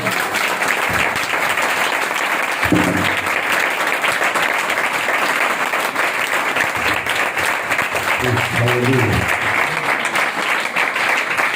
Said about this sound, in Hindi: बादशाह के लिए जोरदार तालियां